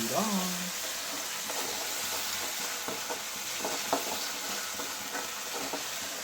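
Ginger paste and green chillies fry in hot oil in a home kitchen, a steady soft sizzle broken by light stirring scrapes, with a voice speaking briefly at the start.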